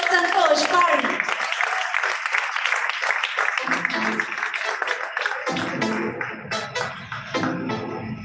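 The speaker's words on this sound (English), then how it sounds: "I want some huge round of applause brimming up for the Chief Creative Officer of White and Kennedy." Audience clapping at an awards ceremony for young achievers, a dense broad patter filling the hall from the start while background music and voices carry on beneath, gradually thinning toward the end.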